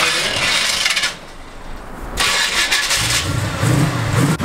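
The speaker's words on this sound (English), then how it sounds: "he's got the truck idling right now" Truck engine cranking and catching, then settling into a rough idle, loud and close with a brief dip before the motor picks up again and keeps running.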